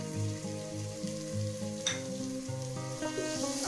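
Ginger garlic paste sizzles and fries in a pan with lightly browned onions for a white chana pulao, giving a steady close hiss with faint stirring and clinks and background music.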